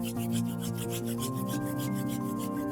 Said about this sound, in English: bring the palms of the hands together in front of your heart and begin to rub those hands together